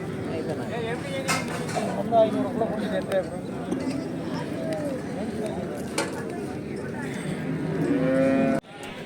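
Cattle at the Manapparai cattle market moo repeatedly amid a busy crowd, with voices chattering throughout and occasional clatter in the background.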